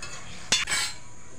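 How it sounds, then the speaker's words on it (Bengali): A short burst of scraping as pangas fish and taro stolon curry, with ground cumin paste just added, is stirred in a pan, one quick stroke over steady background hiss. "এখন একটু নাড়ি চাড়িয়ে নেব ভালো করে।"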